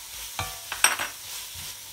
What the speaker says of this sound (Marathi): नंतर आपण त्याच्यात आलं लसूणची पेस्ट टाकूया.